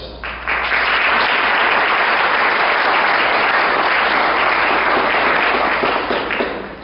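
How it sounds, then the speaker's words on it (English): A crowd at a fashion show claps loudly and steadily for several seconds, dense applause that swells in quickly and tapers slightly at the end. "we owe them all a big round of applause here"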